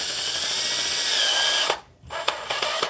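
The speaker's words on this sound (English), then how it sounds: "We're just going to send the thing with the drill." A power drill driving self-tapping screws whines steadily at high speed, stops briefly, then bursts back with short clicking pulses as a screw is driven home.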